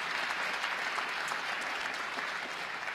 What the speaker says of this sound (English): Yeah, that deserves a strong round of applause.